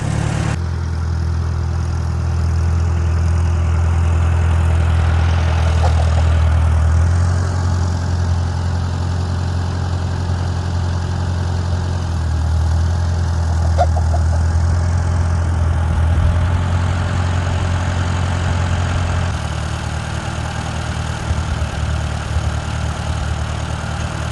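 A Farmall A tractor engine idles steadily, a low, even rumble that stays loud and close throughout with slight shifts in pitch.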